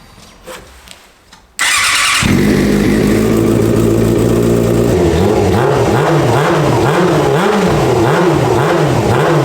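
A go-kart engine, just after its fuel injectors were cleaned, cranks after a few faint knocks, fires up loudly and keeps running close by, its note wavering rhythmically as it idles unevenly.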